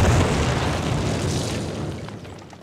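A loud explosion from a World War II video game bursts in at once, a deep booming roar with a broad crackling rumble that slowly fades over a few seconds, with no voices.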